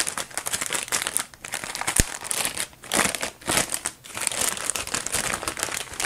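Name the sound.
unboxing the EVGA RTX 2080 Super graphics card packaging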